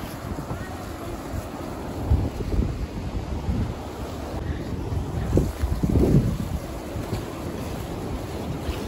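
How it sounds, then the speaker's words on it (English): Gusty outdoor wind buffets the microphone in a medieval costume setting, a continuous low roar that swells in several louder gusts, with no talking. "It's going to get windy today."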